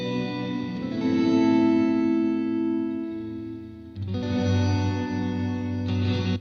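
Electric guitar chords played through a BOSS RV-200 reverb pedal, a sustained wash of reverberant tone that swells, dips briefly near the middle, then returns full and lingering before cutting off at the end.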